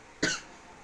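A single short, sharp cough bursts out close to the mic, a breathy rasp that fades quickly into quiet room tone.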